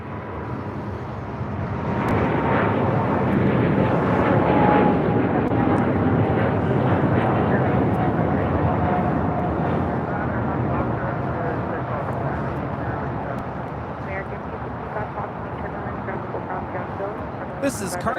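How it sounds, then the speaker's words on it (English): Boeing 777 freighter jet taking off at LAX, a loud sustained broadband engine roar that rises and holds steady with a faint descending tone, ending in a brief burst near the close. "taking off to Shanghai on a 777 freighter"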